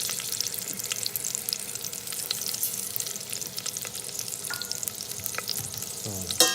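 Chopped cashews, ground cumin and black pepper sizzling in hot ghee, a steady close crackle with occasional stirring scrapes and a short clatter near the end.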